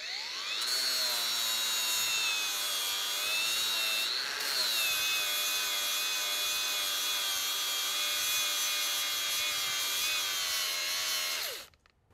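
An Einhell Professional 18/125 cordless angle grinder runs close and loud, with a high steady whine that dips briefly mid-cut and then holds until the motor winds down at the end.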